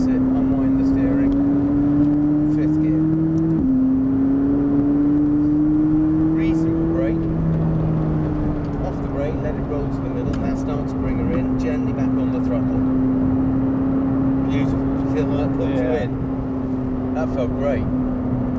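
A McLaren 570S sports car driving around the Thruxton race circuit, its engine droning steadily from inside the cabin with a rising and settling tone as throttle is eased on, heard under an instructor's spoken coaching.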